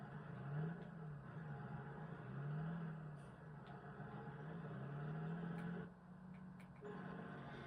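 A 190-horsepower tractor in Farming Simulator 23 rumbles and revs, its engine tone rising and falling in repeated swells over a steady drone, fairly faint and heard alone.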